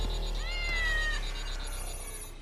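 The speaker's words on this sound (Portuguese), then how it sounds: "O bichano não quer descer." A cat that will not come down from a high spot gives one drawn-out, rising-then-falling meow over a steady background hum, fairly close and clear, with no talking.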